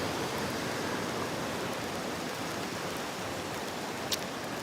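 Freezing rain falling outdoors in the Smoky Mountains of Tennessee, a steady, dense hiss of fine precipitation with a brief small tick near the end.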